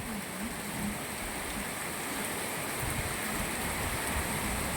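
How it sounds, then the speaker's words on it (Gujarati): Steady rain falls continuously over a market in Moti Gop, Gujarat, a dense even hiss with soft pattering that holds at the same level throughout, with no voices. "એક ધારો વરસાદ ચાલુ હોય"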